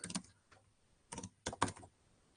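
A few short bursts of keystrokes on a computer keyboard, close and crisp, with brief gaps between clusters.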